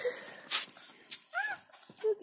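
A dog whimpers in short, high, wavering whines near the microphone, mixed with faint movement and footsteps around it.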